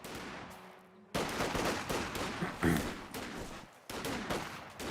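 Gunfire from a Company of Heroes 2 battle as rifleman and Volksgrenadier infantry squads engage, with dense, continuous bursts of rifle and machine-gun fire after a brief quieter opening, broken by short pauses.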